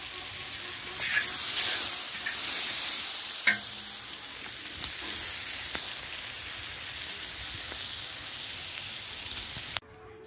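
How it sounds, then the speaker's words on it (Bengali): Eggplant frying in fish oil in a very large wok-style pan at a village house, giving a steady, loud crackling sizzle with occasional stirring scrapes that cuts off abruptly near the end. "এবার হচ্ছে বেগুন দিয়ে মাছের তেল দিয়ে ভাজা"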